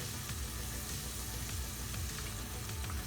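Shrimp curry cooking Goan-style in hot oil sizzles steadily and close, with scraping stirring strokes repeating through it; no one speaks.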